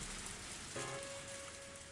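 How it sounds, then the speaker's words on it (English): Rain patters steadily at night in the video game Higurashi, a soft, even hiss of drops on surfaces heard alone, with a faint sustained tone joining partway through. "people wouldn't be able to see it from far away in this rain"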